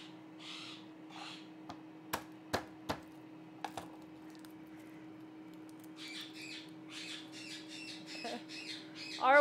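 Pet parrots in a home kitchen squawk and chatter in rapid repeated bursts after a few sharp knocks, growing louder toward the end over a constant low hum.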